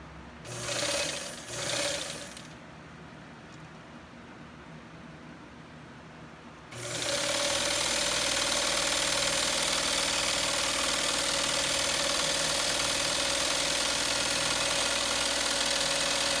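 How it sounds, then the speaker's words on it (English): An old-style flatbed sewing machine stitching zigzag runs in two short bursts, pauses, then runs in a loud, steady mechanical whir with rhythmic clatter until the end. "We can see as we ran the machine, went ahead and changed the width of the zigzag to show that that mechanism is working good"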